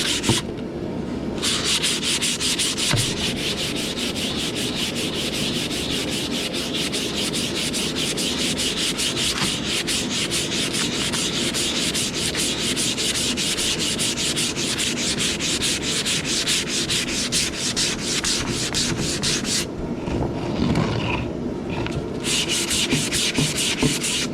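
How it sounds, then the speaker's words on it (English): Steady, continuous hand sanding with 220 grit sandpaper on a bellows part, a close rhythmic rubbing that runs the whole length with no talking. "I'm just going to get some 220 grit here and just do a light little sand."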